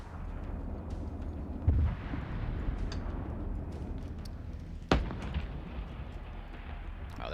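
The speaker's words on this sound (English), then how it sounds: "Oh, they're firing" Artillery and gunfire boom in a military video game, two distant heavy thuds standing out over a low rumbling background, fairly faint and spaced several seconds apart.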